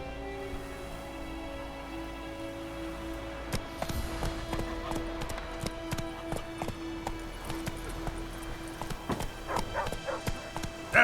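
The horse Roach trots in The Witcher 3, its hooves clip-clopping in a quick, steady rhythm over a soft ambient music bed.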